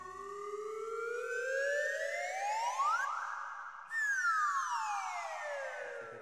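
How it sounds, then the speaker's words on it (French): A spiralling whistle effect from the James Bond film The Man with the Golden Gun: two sweeping slide-whistle glides rising in pitch, separated by a brief break, with a faint siren-like quality. "rajouter ce bruit incongru d'espèces de spirale"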